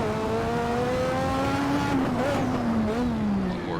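A Lotus 98T turbo Formula One car in Assetto Corsa roars loudly and steadily, its engine pitch holding high then sliding down and rising again through a gear change, close and continuous without any voices.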